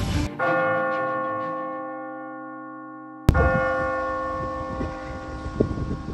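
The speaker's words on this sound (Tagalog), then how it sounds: "Kanina pa tayo nakatayo at nagpapatunog ng kampana." A large church bell is struck twice, each loud clang ringing out in a long, slowly fading hum, with rustling noise after the second stroke.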